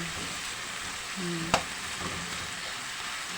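Tomatoes frying in a pan while being pressed and mashed, a continuous close sizzle with soft stirring scrapes and one sharp utensil knock against the pan midway.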